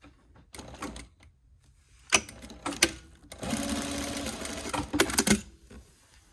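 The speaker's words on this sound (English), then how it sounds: "you're going to sew right along the edge of the continuous lap" A sewing machine stitches along the edge of fabric for a continuous lap, running in short bursts and then a longer steady whir, loud and close, with clicks between runs and no speech.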